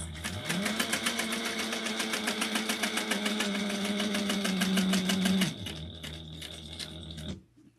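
A sewing machine stitching bar tacks, running at a fast, steady rhythmic whir close by, briefly easing in speed before a final burst and stop.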